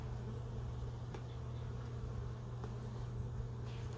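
Honeybees hum steadily in a beehive during an almost-spring check-up, a low continuous drone close by with no talk over it.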